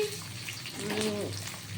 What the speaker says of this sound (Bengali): এটা রসুন এখন ভাজা হবে